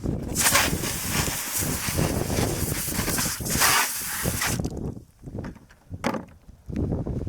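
Close, sustained hissing bursts from a spray bottle onto rusty steel neoprene weights, a long continuous stretch followed by several shorter squirts with brief pauses between.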